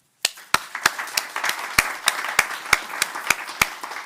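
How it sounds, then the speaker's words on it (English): Applause from the audience at a Beloit city council meeting, starting with a few sharp claps and building into steady clapping from several people, close and continuous. "So we applaud you."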